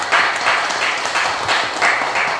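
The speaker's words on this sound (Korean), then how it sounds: "간단히 박수만 한번 치고" A short burst of clapping from a small group at a monthly meeting, several hands patting in an uneven rhythm, fairly close and with no talking.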